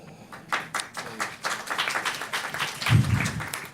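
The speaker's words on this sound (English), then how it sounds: "You're not adding time when they clap." Audience clapping at a panel discussion on race and resistance, starting after a quiet moment and building into scattered, uneven applause of moderate loudness that swells near the end.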